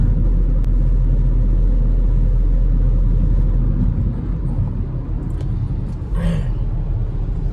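A car drives along a road near a subway toward Bhugaon Road on a Konkan trip, giving a steady low engine rumble and road noise that dips slightly midway, with a brief higher whoosh near the end.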